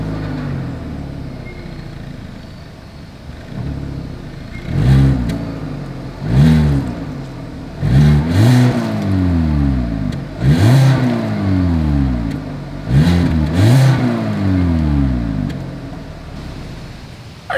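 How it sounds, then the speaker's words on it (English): A 2022 Hyundai Accent's exhaust revs repeatedly, about half a dozen rising blips separated by idling, close and fairly loud. "As always, here is that exhaust clip."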